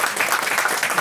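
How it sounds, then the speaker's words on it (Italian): Members at a Ferrari club Christmas lunch break into applause, a brief dense burst of many hands clapping at close range, steady and lively for the whole moment. "Di questo io chiedo veramente un applauso"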